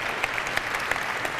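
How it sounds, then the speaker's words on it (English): Brief, steady applause from the audience at a Mars mission prelaunch briefing, dense clapping filling the room with a few sharper individual claps standing out. "a round of applause for our science panel"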